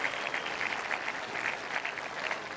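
A tennis crowd claps for Dimitrov and Goffin, a brief, even wash of applause heard from a distance with no pauses.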